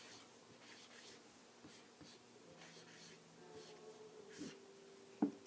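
A pencil scratches on paper during a double-digit multiplication problem, with soft, faint strokes and taps in a quiet room and a sharper tap near the end.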